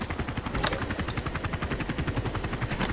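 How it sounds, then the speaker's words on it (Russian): Minigun fire from a helicopter in the video game Battlefield 2: a steady, rapid stream of loud, even bursts runs the whole time, mixed with engine and rotor roar. "Ой, я на минигане на вертолете."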